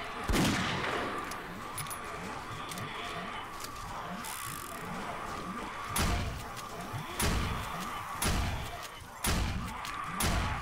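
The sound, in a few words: gunfire shooting crawling zombies in video game 7 Days to Die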